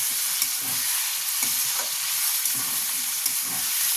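Chicken with ginger paste frying in a pan, a steady loud sizzle with soft scraping stirs and light knocks of a utensil against the pan, no voices.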